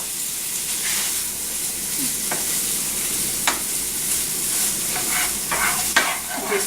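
Tomatoes stirred around a hot frying pan, a steady broadband sizzle with a few sharp scrapes and clicks of the utensil against the pan, close and continuous without talk.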